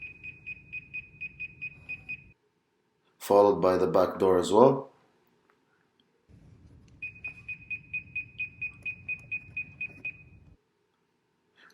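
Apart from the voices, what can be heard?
door alarm going off from Hall effect sensor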